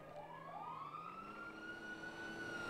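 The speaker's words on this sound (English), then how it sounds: "I hear sirens." Wailing emergency siren in Grand Theft Auto V, a continuous rising and falling tone that holds steady and fairly loud throughout, with no talking over it.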